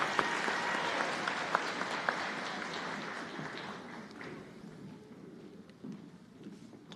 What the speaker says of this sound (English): another great round of applause for these Tigers